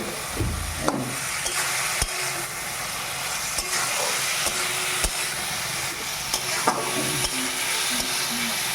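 Tengra fish frying in hot oil in a pan, a dense continuous sizzle with a louder splash and crackle as the fish goes in, then occasional utensil knocks, close and without talk.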